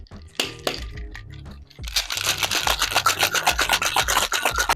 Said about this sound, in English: add the ice to your shaker. And then you just want to give it a shake for about 10 to 15 seconds.